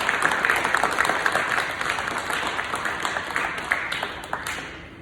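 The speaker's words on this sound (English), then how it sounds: "Can y'all clap it up for Keon Wilford, please?" Audience applauding at a middle school leadership ceremony, steady dense clapping from a crowd throughout, moderately loud and sustained with a few sharper claps standing out.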